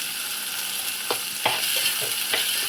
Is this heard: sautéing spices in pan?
yes